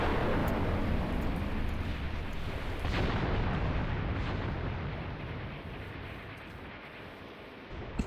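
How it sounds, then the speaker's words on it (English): In the wartime tactics game Graviteam Tactics, heavy artillery rumbles in a continuous low roar, with one sharper distant blast partway through and a small pop at the end, the rumble fading gradually toward the close. "So this artillery might not do too much."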